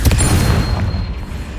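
The Confringo explosive spell from the video game Hogwarts Legacy goes off as a heavy, booming blast with a deep rumbling body that fades quickly within under two seconds.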